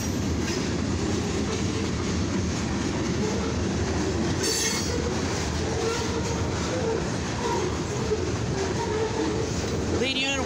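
A mixed freight train carrying grain and steel rumbles past close by on the main line, a continuous heavy roar of wheels on rail with rhythmic clacking and occasional metallic squeals.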